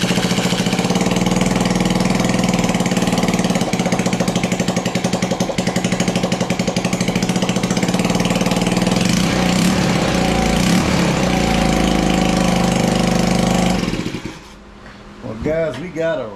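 A Tao Tao New Speed 50 scooter with a GY6 engine runs steadily and loudly close by for about fourteen seconds, then cuts off abruptly, leaving quieter sounds and a brief voice at the end.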